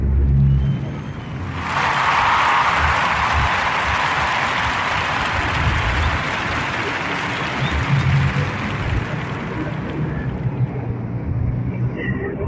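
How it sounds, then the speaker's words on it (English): Warm podcast audience applause rises suddenly and carries on as a dense, steady wash of clapping for about ten seconds before slowly thinning. "Give a warm narrative podcast round of applause"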